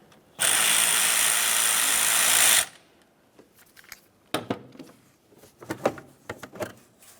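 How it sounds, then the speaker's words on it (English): Power driver whirring steadily for about two seconds as it loosens the air inlet tube clamp at the throttle body of a 2003-2011 Mercury Grand Marquis, followed by quieter clicks and handling clatter, with no talk. "Loosen that clamp and slide this out of the area."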